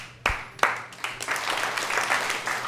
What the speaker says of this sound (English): When you clap your hands in front of the deities like this